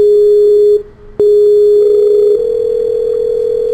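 Telephone tone after the caller hangs up: a loud, steady electronic hum that cuts out briefly, returns with a click and continues unbroken.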